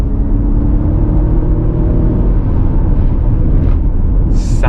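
A Ford Mustang Mach-E electric car accelerates in sport mode, a loud constant rumbling whir of road and motor noise from inside the cabin, with a brief higher hiss near the end.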